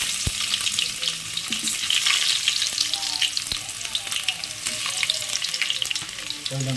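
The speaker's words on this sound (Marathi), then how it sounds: "तर तेल गरम करायसाठी ठेवलेलं आहे. त्यात कांदा मस्तपैकी टाकायचा." Onion dropped into 3 to 4 ladlefuls of hot oil sizzles and fries loudly and steadily nearby, with occasional stirring scrapes and no talk.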